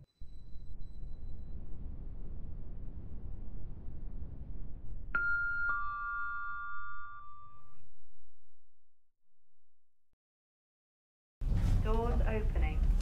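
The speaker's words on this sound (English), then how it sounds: "Lift going down." A Roblox mall elevator descending, a low steady rumble of motion followed by a clear two-tone chime ringing out, then the rumble fades to silence before a voice begins speaking.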